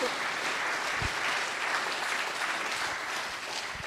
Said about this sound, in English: can we give Stacey a big round of applause, please?